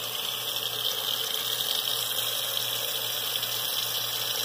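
Water runs steadily from a tap, a constant hissing stream poured into a cooking pot for fava beans, unbroken for several seconds.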